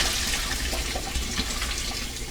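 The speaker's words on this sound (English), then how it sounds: "with cold water running at the same time" Cold water runs steadily from a kitchen sink faucet, a continuous close rush of flowing water with no talking.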